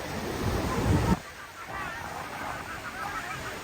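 Sea waves washing over a rocky shore at General Nakar, Quezon, a loud broad rush of surf that drops off sharply to a softer, steady wash, with faint outdoor voices.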